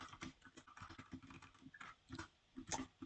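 A computer keyboard is typed on in short, uneven bursts of soft clicks, close and fairly quiet, with one sharper tap near the end.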